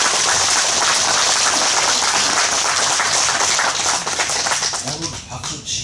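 Audience applause at a Korean political speech, dense and loud, sustained clapping that thins out toward the end, with voices mixed in beneath it.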